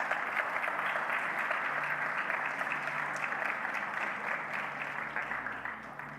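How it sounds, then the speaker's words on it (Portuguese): Steady applause from a church congregation praising God during a Sunday sermon, a continuous wash of many hands clapping at moderate level throughout, thinning slightly as it trails off. "Você pode aplaudir a Deus por isso?"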